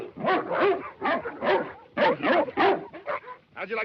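A sled dog in the frozen north barks and whimpers in rapid, choppy bursts, yipping and whining close by in a run of uneven calls with short pauses between them.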